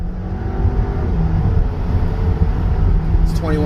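A tuned 2019 MK7 Volkswagen Jetta GLI running a JB4 tune accelerates hard, its engine droning loud and steady from the cabin as pitch climbs through the pull, with a brief whine of a shift near the end.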